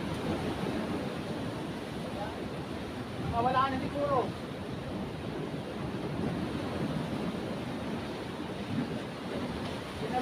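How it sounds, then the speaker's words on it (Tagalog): Ocean waves wash steadily against the shore in a broad, continuous roar with wind noise, while people talk briefly over the surf partway through. "Tingnan mo yung alon."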